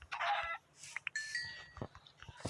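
Chickens in the Minecraft video game give a few short clucks, moderately loud, mixed with other in-game sound effects and brief chirps.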